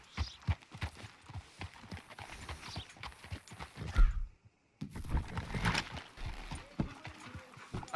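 Horse hooves clip-clop in a steady walking rhythm in Red Dead Redemption 2, fairly close, with a short pause before the clopping resumes alongside faint creaks and a snort.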